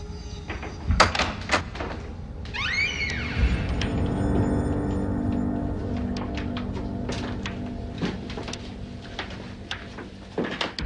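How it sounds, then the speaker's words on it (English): A door creaking and rattling open up close, with clunks and knocks, a drawn-out hinge squeal and scattered rustling afterward, no voices. "Open the door."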